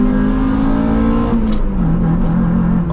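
A Honda Integra engine, loud and close, revs hard under full throttle, its steady drone climbing and holding high before it dips slightly and resumes, with no talking.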